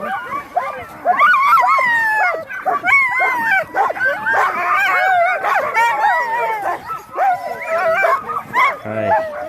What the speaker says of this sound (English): Let's check out his dogs here.